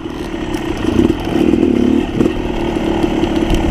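Dirt bike engine roars loud and close throughout while riding fast downhill through snow, with a steady buzzing drone that swells briefly in revs.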